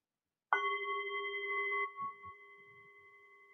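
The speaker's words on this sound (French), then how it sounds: "au troisième coup de gong" A single gong strike at a mindfulness session blooms with a sharp attack, then rings on as a sustained, steady metallic tone that fades slowly while a few soft low rustles pass beneath.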